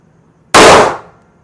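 A single loud .380 pistol shot, fired from an S&W Bodyguard or a Kimber Micro while test-firing ammunition, cracks out of silence and trails off in a short decaying echo.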